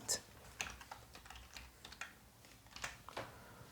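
Typing on a computer keyboard while writing a form label in Bootstrap code: irregular, fairly quiet key clicks in short bursts, close up, with no talking.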